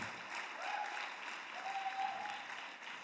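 Congregation applauding at a church service, a steady wash of clapping from many hands holding at an even level for the whole stretch, with no voices over it.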